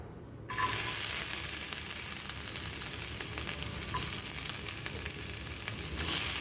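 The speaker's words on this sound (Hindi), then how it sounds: "लहसुन की खाली खुशबू खुलने तक भूनना है।" Garlic frying in hot oil with mustard seeds and cumin, a steady close sizzle that jumps up suddenly as the garlic goes in and crackles on evenly with faint stirring.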